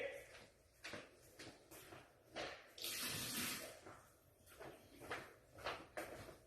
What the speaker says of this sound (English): I may need to pour out a little bit of water